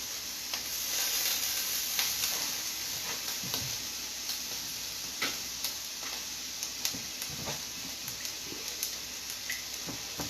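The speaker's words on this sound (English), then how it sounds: "I'm going to carry on frying the stuff at the same time." Food fries in a pan with a soft, steady sizzle, broken by scattered faint ticks and clinks of stirring.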